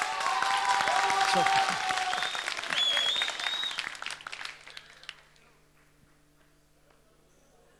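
Audience applause at a live television show event, loud and dense for about four seconds, then thinning into scattered claps and fading to near silence, with a voice speaking briefly over the clapping.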